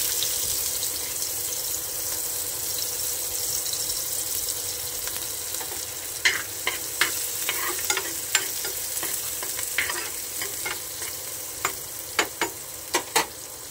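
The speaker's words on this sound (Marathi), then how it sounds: "त्याच्यामध्ये पॅनमध्ये तेल टाकल्यानंतर मी थोडेसे जिरे टाकले आहे। त्यानंतर मी थोडासा कांदा टाकते।" Onion fries with cumin in oil in a pan, a constant close sizzle broken in the second half by a series of spatula scrapes and stirs.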